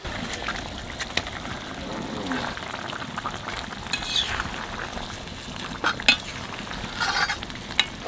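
River fish going into a simmering tomato, mustard and poppy seed sauce in a pan, with a steady close sizzle and the scrape of stirring throughout, plus a few sharper clinks.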